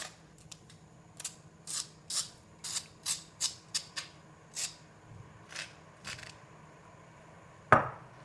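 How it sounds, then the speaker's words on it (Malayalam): A spoon scrapes soft dough off a stone wet-grinder for chicken kozhukatta in a string of about a dozen short, crisp scraping strokes at a fairly steady pace, ending with one sharper knock. "കല്ലിൽ പറ്റി പിടിച്ചിട്ടുള്ള മാവിനെയെല്ലാം നമുക്കൊരു സ്പൂൺ ഉപയോഗിച്ച് മാറ്റാം"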